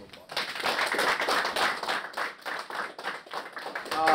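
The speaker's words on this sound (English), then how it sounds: "So give yourselves a round of applause." Hockey players clap and cheer for themselves in a locker room after winning both weekend games, a close, dense burst of hand claps mixed with voices and chatter that carries on for several seconds.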